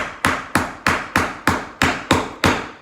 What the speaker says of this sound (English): Okay, so he's gonna hammer this one in.